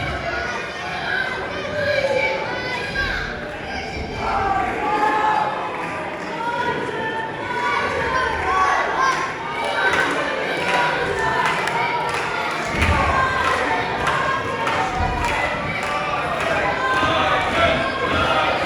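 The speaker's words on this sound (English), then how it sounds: "Listen to the crowd, get behind Isaac again." A wrestling event crowd in Romford cheers loudly and steadily for Isaac Blair against Mark Trew, with dense, continuous roar and scattered thuds from the ring throughout.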